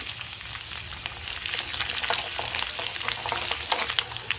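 Crushed garlic frying in oil until brown for jeet vada makes a dense, continuous sizzle with fine crackles, close and loud, steady for the whole stretch with no voices.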